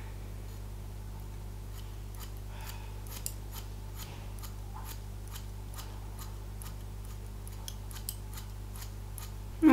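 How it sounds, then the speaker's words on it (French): Scissors snip repeatedly through hair while curtain bangs are cut, a steady run of crisp close-up clicks against a quiet, humming room with no talking. "Donc là je coupe un peu les pointes"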